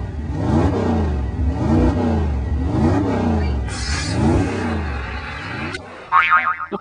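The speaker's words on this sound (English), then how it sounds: "the rocket engine didn't really do so well because, well, what happened is we didn't have a big enough engine" A small rocket engine fires on a toy rocket car, a steady whooshing roar with a rhythmic pulsing texture that runs loud for nearly six seconds before cutting off, followed by a brief burst of voices.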